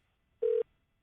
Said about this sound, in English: Let me try her cell number.